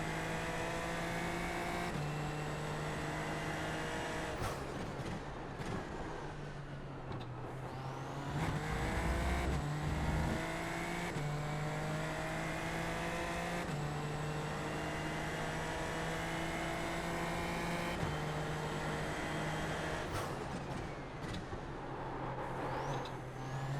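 Super Formula Lights open-wheel race car engine at Imola in the iRacing sim, loud and steady with repeated revs and sharp gear-change drops in pitch, heard alone without talk.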